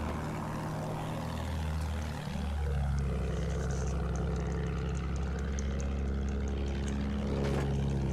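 Propeller plane passing overhead in a wartime video game, a loud droning engine hum that swells and shifts pitch midway as it flies by, with no talk over it.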